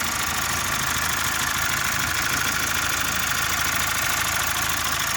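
A 2014 Mazda CX-5 diesel engine runs steadily at idle, a low rough rumble with a knocking vibration, close and continuous throughout.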